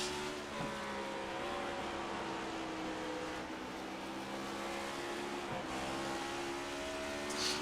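Steady, loud race car engine drone from a sim racing game at Bristol, held at partial throttle through the corners, with smooth harmonic bands and a couple of brief dips where the revs shift.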